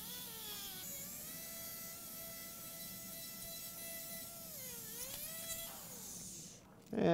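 A dental handpiece with a coarse adjusting burr trims a chairside soft reline, giving a steady high-pitched whine that dips and rises in pitch as load changes, fairly quiet, ending with a brief clatter.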